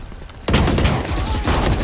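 Judge shotgun blasts in a Valorant tournament match: a sudden burst of loud, rapid gunfire starts partway in and continues densely to the end, with brief pulsing bursts layered over game noise.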